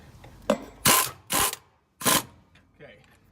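A ratchet tightens a nut on a trac bar bracket in short, close bursts of clicking, three strong runs separated by brief pauses, with quieter handling noise after.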